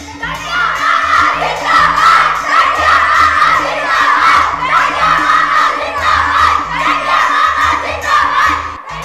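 A large crowd of thousands packed into city squares, giving a loud, dense roar of shouting and cheering voices that surges and swells continuously, with rhythmic chanting and a steady beat underneath.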